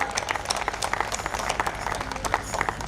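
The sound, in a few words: audience applause for the bhajan singers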